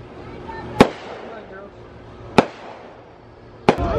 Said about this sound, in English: Here's the pre fireworks.